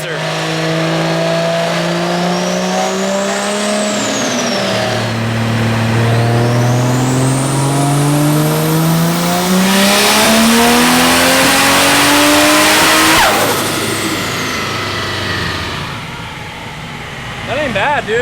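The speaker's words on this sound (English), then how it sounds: "Still got that beautiful Garrett sound, the G30-660 this time, slightly bigger exhaust side, same side compressor." A Mazda FD RX-7 fitted with a Garrett G30-660 turbo, with a slightly bigger exhaust side, revs hard on a dyno, its loud engine note climbing steadily through the gears with turbo whine before backing off at the end.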